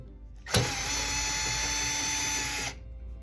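Power drill spinning out the Phillips head screws on the water valve at the back of a washing machine: one steady, loud whirring run of about two seconds that starts abruptly and stops abruptly.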